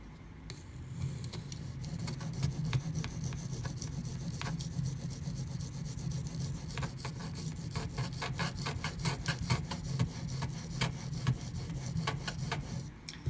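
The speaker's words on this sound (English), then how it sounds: "That grinding you hear as I go back and forth is hitting the inside of this sharpening notch" A Spyderco Delica knife with SG2 steel grinds repeatedly in a sharpening notch, making a close, rhythmic rasping scrape back and forth over a low steady hum, with no speech.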